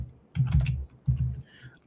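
Two short bursts of rapid clicking typing on a computer keyboard sound close and clear, separated by a brief pause, with no voice over them.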